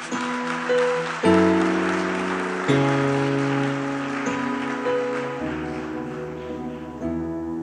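Church congregation applauding during a sermon, a continuous wash of clapping from many people under sustained organ or keyboard chords with music swelling and shifting.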